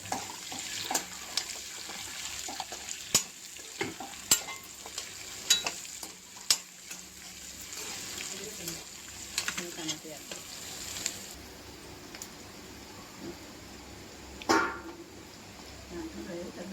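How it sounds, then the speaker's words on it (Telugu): Thinly sliced onions fry in a pan with a low steady sizzle, broken by repeated clinks and scrapes of a spoon stirring, quiet and close, with faint water sounds late on. "ఆనియన్స్ రెండు ఇలా వేయించుకోవాలి"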